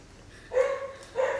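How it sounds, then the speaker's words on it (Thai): A dog barks twice, two clear mid-pitched woofs about half a second apart, at moderate distance with no talk over them. "หมาเห่าใคร"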